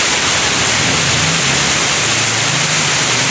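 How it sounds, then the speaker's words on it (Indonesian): Steady, loud rain pours down as a dense continuous hiss, with a faint low engine-like rumble underneath and no voices. "Ini. Hujan, Pak."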